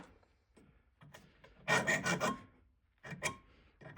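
A hand file rasps across a metal spoon ring to clear burrs, in short bursts of close, gritty scraping with pauses between strokes.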